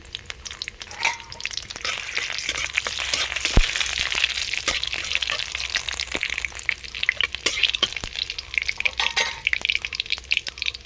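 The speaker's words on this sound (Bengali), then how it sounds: "গোটা জিরে ফোড়নের জন্য, গোটা শুকনো লঙ্কা, তেজপাতা" Whole cumin seeds, dried red chillies and bay leaf sizzle and crackle continuously in hot oil, with scattered pops and spatters throughout and no voices.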